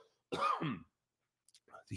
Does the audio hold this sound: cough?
yes